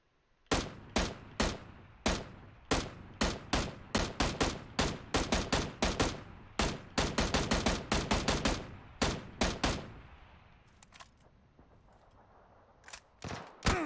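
Gunfire from the PUBG video game rings out as a rapid string of loud, sharp shots in irregular bursts, which stop near the end before two final cracks.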